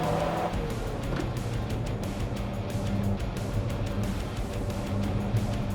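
Alfa Romeo 4C mid-engine sports car revving hard through roughly 4000 to 5000 rpm, a loud, continuous engine drone heard from inside the car with no talk.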